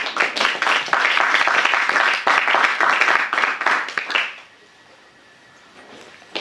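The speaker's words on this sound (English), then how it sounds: "let's give another round of applause" Audience applause at the end of a talk, dense and loud clapping for about four seconds, then fading quickly into a quiet room.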